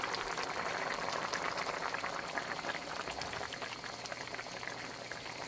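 Halibut fish curry with potatoes and garbanzo beans simmers under a lid, giving a steady, soft bubbling and crackle that stays close and even for the whole stretch with no voices.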